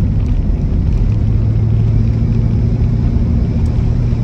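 A 1960 Cadillac Coupe de Ville engine rumbles loud and steady while driving, a continuous low drone with no talking over it.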